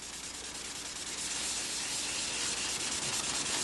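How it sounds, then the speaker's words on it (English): Fine M600 sandpaper rubbing steadily over a dried covering material in a workshop, a soft continuous close-up scratching hiss that grows slightly louder and stays unbroken throughout. "Once this material is dry and you're sanding it with M600"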